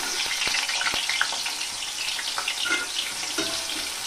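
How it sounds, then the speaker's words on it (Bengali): A large potato sizzles in hot oil in a kadai, a steady close crackling hiss with scattered small pops and no talking. "আলুটা ভেজে নিব।"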